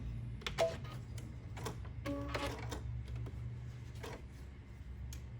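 A sewing machine stitches a rope coaster, a steady low motor hum with rapid rhythmic needle ticking running throughout, close and moderately quiet.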